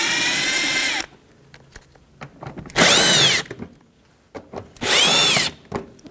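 A power tool driving out 7mm fender well mounting screws on a 2007-2017 Jeep Patriot gives three loud close bursts of whirring, one long and two shorter, with quiet clicks and handling noises between them.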